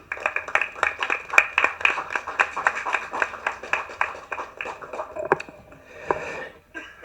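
Audience at a Tamil film event applauding to welcome actor MS Baskar on stage, a moderate crowd clapping in steady overlapping bursts that tapers off near the end.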